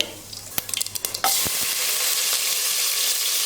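A few sharp clicks and taps give way to a sudden loud, steady sizzle of mustard seeds frying in about two spoons of hot oil, continuing evenly to the end.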